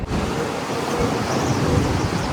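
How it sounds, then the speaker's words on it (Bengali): Strong gusty wind blowing during early rain, a rough, buffeting rush with low rumbling wind noise on the microphone, steady and close. "বৃষ্টি তো শুরু হয়ে গিয়েছে, কিন্তু এত হাওয়া দিচ্ছে, এত হাওয়া যে বৃষ্টি থেমে যাবে।"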